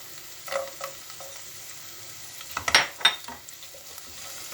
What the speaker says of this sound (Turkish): Şimdi şöyle 2-3 dakika salçanın da kokusu çıkana kadar kavuruyorum.